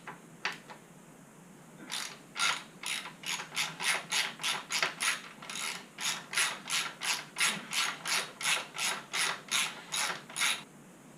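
A ratchet socket wrench on a 24 mm nut clicks in a run of quick, evenly spaced strokes while bolts come off a motorcycle exhaust hanger bracket, close and fairly quiet after a couple of isolated knocks.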